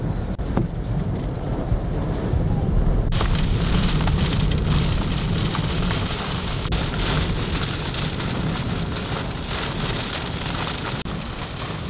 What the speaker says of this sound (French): Orage en vue.